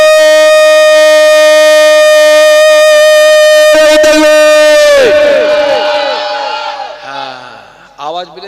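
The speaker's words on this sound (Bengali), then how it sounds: "ওখানে হঠাৎ শুরু হয়ে জোরে সোরে নারে তাকবীর" A large crowd chants the Nara-e-Takbir slogan loudly at a religious gathering, one long sustained roaring call that breaks into a mix of voices and then fades.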